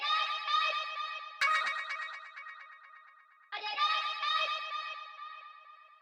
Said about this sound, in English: It's basically just this vocal shout that I got from an old synth and then processed it a bunch